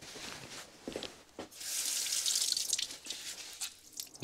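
Tap water runs over a folded paper towel being wetted, a steady hiss of flowing water rising in the middle with scattered drips and splashes at the start and end, close and alone.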